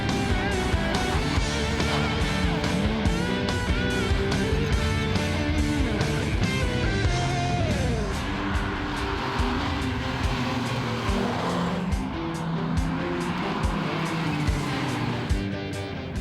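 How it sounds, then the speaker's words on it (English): Rally cars on a tarmac stage in Victoria rev hard through a corner, with engines rising and falling, tyres squealing and a car passing close by, all loud and without talk. "But for the rest of us, the field had to use their handbrake."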